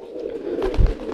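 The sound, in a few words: crested pigeon cooing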